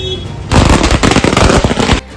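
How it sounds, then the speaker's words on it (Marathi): Firecrackers set off by party workers in celebration in Ahmednagar burst in a loud, close, rapid string of sharp cracks and pops lasting about a second and a half, then stop abruptly. "भाजपाच्या कार्यकर्त्यांनी फटाके फोडून आनंदोत्सव साजरा केला।"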